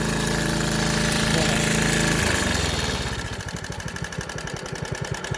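A 4HP diesel engine on old equipment runs roughly just after a cold start, a loud, steady clatter that settles into a rhythmic, chugging idle with a ticky knock.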